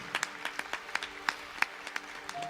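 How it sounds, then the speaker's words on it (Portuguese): A church congregation claps in a sparse, uneven rhythm, with about a dozen distinct, fairly near claps spread across a couple of seconds. "Uma salva de palmas para a palavra do Senhor. Pode aplaudir, pode aplaudir."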